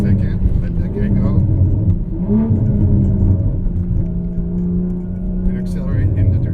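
A track-built Toyota Supra's engine accelerating, a loud steady drone with rising pitch inside the cabin, continuous throughout.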